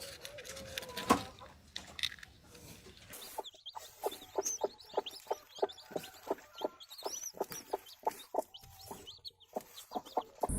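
A mother hen with newly hatched chicks clucks in a steady rhythm of short repeated low clucks, close and fairly quiet, mixed with faint high chick peeping.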